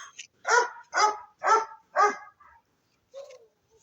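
A dog barks four times in a steady rhythm, loud and close, followed by a fainter whimpering yelp.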